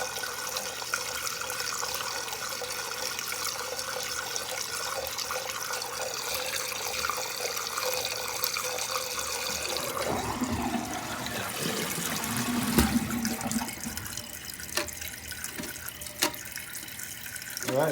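Water runs continuously into a toilet tank whose float and fill valve won't shut off, a steady hissing rush that shifts and gurgles partway through as the float is handled.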